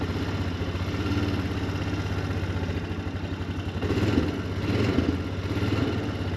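Engine of a 2007 Honda Foreman ATV running at a steady idle just after starting, a continuous low mechanical rumble with light clatter, fairly close and without speech.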